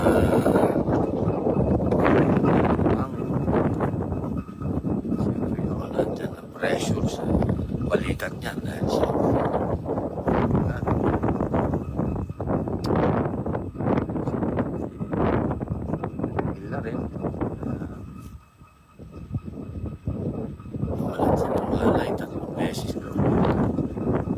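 Strong wind buffeting the microphone outdoors, a loud continuous rumbling roar throughout with a short lull near the end, under ongoing talk.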